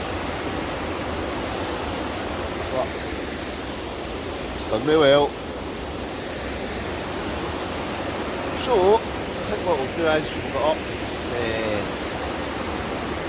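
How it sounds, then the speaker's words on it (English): Steady heavy rain pours down in a dense, constant hiss while wild camping in Scotland, with a voice speaking briefly over it in a few short bursts. "It's definitely pouring the rain all night."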